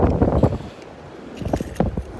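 Wind gusts across a beach boardwalk at Delnor-Wiggins, buffeting the microphone in loud low rumbles that swell and ease in uneven bursts, close and rough, with no speech.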